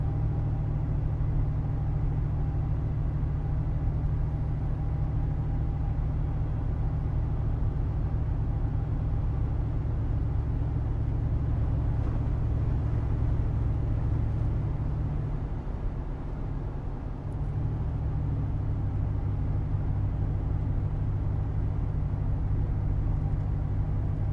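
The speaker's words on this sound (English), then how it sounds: "Just the slightest throttle and the response on this thing." An LS 6.0 V8 swapped into a Jeep Cherokee XJ idles with a deep, steady low rumble, close and continuous, with only a faint shift in tone as light throttle is applied.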